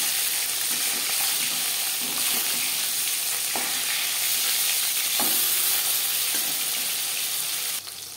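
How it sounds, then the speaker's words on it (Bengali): Katla fish pieces frying in a pan of oil, a steady broadband sizzle throughout with a few soft knocks and scrapes from turning the fish, close and fairly loud, no voices. "একটা সাইড ভাজা হয়ে গেলে অপর সাইডটা উল্টে দেবো।"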